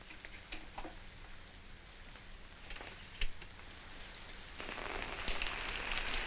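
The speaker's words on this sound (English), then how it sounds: "It is raining." Rain patters steadily with scattered drips and ticks, growing louder and denser toward the end; no voices.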